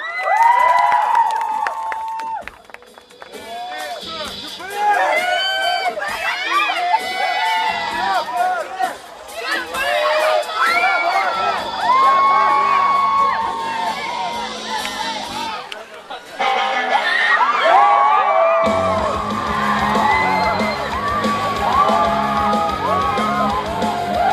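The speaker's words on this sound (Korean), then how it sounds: "큰 박수 부탁드리겠습니다" A festival crowd at an outdoor rock festival air band contest cheers, whoops and yells continuously and loudly, with a host speaking over the din and the roar swelling toward the end.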